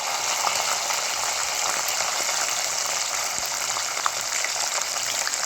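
Green chillies frying in hot oil give a steady, dense sizzle and crackle that holds at an even level throughout, with no talking.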